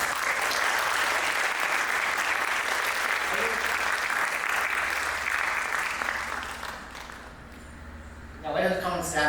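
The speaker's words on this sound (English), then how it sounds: "A round of applause for her" Steady, full applause from the audience at a Bharatanatyam arangetram dance recital in Mount Laurel, lasting several seconds before thinning out, with voices coming in at the end.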